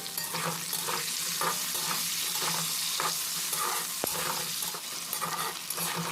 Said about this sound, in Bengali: হলুদ গুঁড়ো দিয়ে ডাঁটাটা ভেজে নিতে হবে